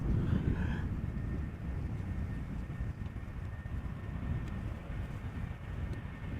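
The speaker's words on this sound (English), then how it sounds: "an A319 arriving from Munich, Lufthansa." A Lufthansa Airbus A319 arriving from Munich at Amsterdam Schiphol Airport gives off a steady, fairly distant jet roar that holds evenly throughout.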